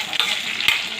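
Onion frying in a pan for a spicy chutney gives a bright, continuous sizzle, with a few stirring scrapes on top. It is close and fairly loud, and nobody speaks.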